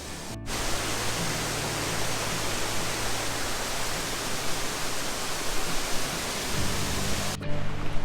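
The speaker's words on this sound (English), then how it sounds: "So that's Stevensons Falls." Stevensons Falls waterfall gushing in the Toolangi rainforest, a loud, dense, unbroken roar of rushing water from close by that holds steady the whole time, with no talking.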